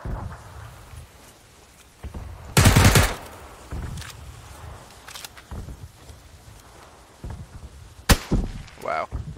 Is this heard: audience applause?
no